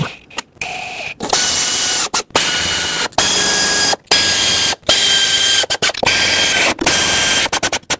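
A ratchet snugging valve cover bolts on a Ford F-350 6.2L V8 gives loud, close bursts of rapid clicking. Each burst lasts about a second, with short pauses between them as the tool moves from bolt to bolt.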